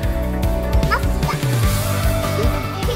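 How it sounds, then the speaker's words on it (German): A kindergarten therapy dog, a female kept at a daycare centre, gives yipping, whimpery barks amid a busy, cluttered indoor background with faint voices. "wir haben hier eine Kita-Hündin, also meine Hündin, die Sky"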